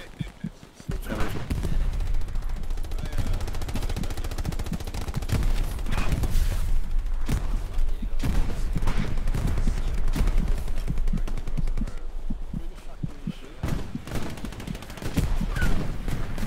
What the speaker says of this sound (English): Wait, who's shooting us?